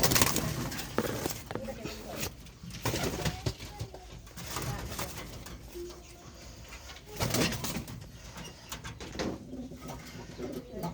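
A white-necked male pigeon coos in low repeated calls amid close background noise and rustling, with occasional voices of people nearby.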